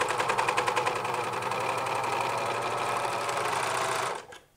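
A sewing machine stitches a seam on the back pieces of men's jogger pants, a steady fast rattling run of needle strokes, loud and close, that slows and stops at the end.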